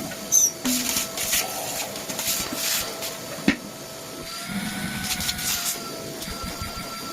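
A Dyson DC04 vacuum cleaner runs steadily with a rough, whooshing drone, broken by a few clunks and rubbing noises as the nozzle moves.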